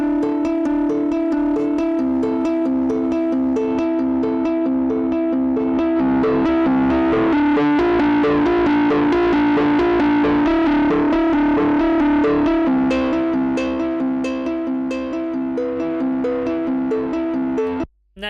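Audio runs through the Soundtoys Level Destroyer effect, a heavy distortion compressor, producing a loud, dense, saturated stream of crunchy tones with a sustained droning core for about eighteen seconds before it cuts off abruptly.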